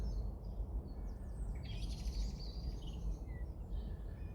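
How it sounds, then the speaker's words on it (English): Birds sing faintly during a pleasant countryside walk, with thin, scattered chirps and short song phrases drifting over a steady low rumble of wind and outdoor background noise. "You hear my mates, the birds singing,"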